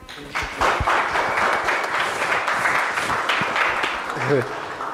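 An audience applauds after a seminar speech, with steady, close clapping from a crowded room running throughout, a voice briefly heard near the end.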